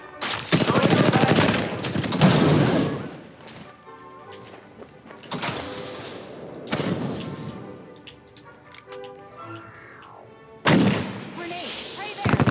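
Gunfire from the Apex Legends shooter game comes in several loud automatic bursts separated by quieter gaps with scattered single shots and thuds, a final burst near the end, and voices speaking faintly between the volleys.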